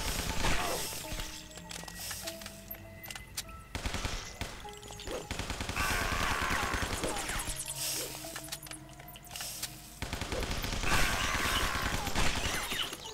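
Shotgun gunfire in the video game Guns, Gore & Cannoli, heard as repeated loud blasts in rapid irregular bursts among game sound effects in a sewer level with rats, continuing throughout.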